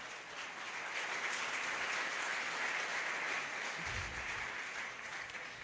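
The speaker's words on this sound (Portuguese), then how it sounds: "Você pode aplaudir ao Senhor." A church congregation claps together in sustained, even applause that fills the whole stretch at steady loudness, with no voices rising above it.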